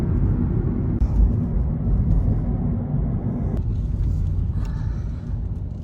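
A car pulls into a busy sandbag filling lot during hurricane preparations, its engine a steady low rumble heard from inside the cabin, moderately loud and continuous throughout.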